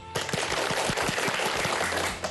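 A class of Balinese schoolchildren bursts into quick, close, dense applause that lasts a couple of seconds and then fades.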